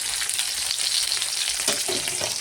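Fish frying in a pan gives a close, steady sizzle and crackle throughout, with a few stirring scrapes near the end and no talking.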